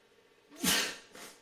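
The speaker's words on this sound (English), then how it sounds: "he's making me sneeze so much" A single sharp human sneeze, close and loud, set off by a pet, with a brief breathy intake before it and a quieter trailing exhale after.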